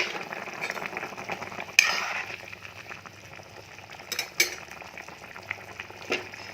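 Meat simmers in a pot with a little cumin powder just added, giving a low, steady bubbling and frying hiss broken by a few sharp clinks of a spoon against the pot.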